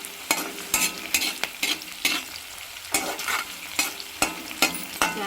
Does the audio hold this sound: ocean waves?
no